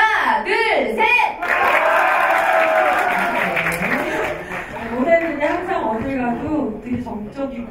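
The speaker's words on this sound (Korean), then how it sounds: "박수 파도 하나 둘 셋." An audience at an arts school entrance ceremony performs a clapping wave after a countdown, a swelling burst of applause and cheers that fades into a speaker's voice.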